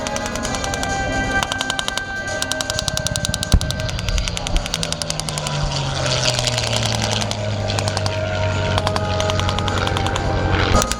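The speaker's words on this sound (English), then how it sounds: "P-51 going by in that low-angle straight pass" WWII P-51 Mustang making a low straight fly-by at an air show battle re-enactment: a loud piston engine roar sweeps past with a falling pitch, over rapid crackling bursts of simulated gunfire.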